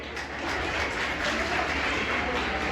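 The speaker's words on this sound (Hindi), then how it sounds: "जोरदार तालियां हो जाएं" Applause from a crowd at a college annual function, a continuous wash of clapping at moderate distance that holds steady for a few seconds.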